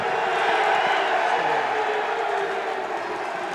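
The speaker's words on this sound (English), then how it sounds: "Mrs. Thatcher's now gone over to greet the crowd. Some very, very loud cheers, a lot of enthusiasm" A large, dense crowd cheers for Margaret Thatcher after her landslide election win, a steady, loud roar of voices and shouts that holds throughout without a break.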